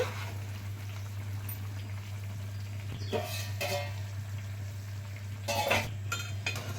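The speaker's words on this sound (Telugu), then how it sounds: "ఉడుకుతుందండి." Bitter gourd tamarind stew simmering in a pot, with a steady low hum and faint bubbling, broken by a few clinks and scrapes of a utensil against the vessel.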